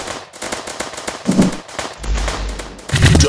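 Grenade explosions in the MaskGun shooter game, a rapid crackling string of sharp bursts with a deep boom near the end, loud and close.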